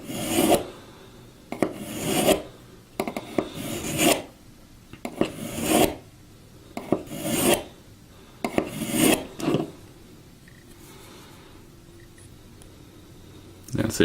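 A knife blade is drawn repeatedly across the ceramic side of a sharpener, producing about eight rhythmic rasping strokes close up, each a bright scrape, before a quieter pause at the end.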